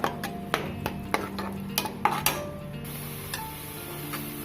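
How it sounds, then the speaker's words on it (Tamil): A tomato masala gravy for tomato pulao bubbles in a pan while a spoon scrapes and clinks against the metal in irregular taps, close and moderately loud, with no talking. "இது நல்லா கொதிச்சு எண்ணெய் பிரிஞ்சு மேலே வரட்டும்"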